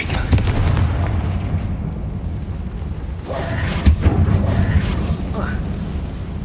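A Confringo blasting curse explodes in a Harry Potter video game, a booming burst near the middle with smaller crackling blasts around it over continuous game rumble and ambience.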